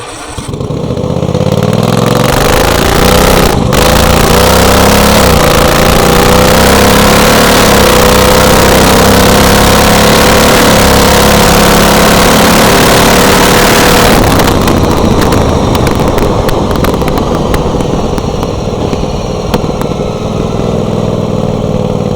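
A racing lawn mower fitted with a 23 horsepower engine runs loud and close, holding a steady drone and shifting character about two-thirds of the way through.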